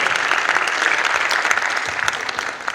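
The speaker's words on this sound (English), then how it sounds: "So give him a big round of applause" A conference audience breaks into dense, sustained applause following a speaker's introduction, loud and continuous before tapering slightly at the end.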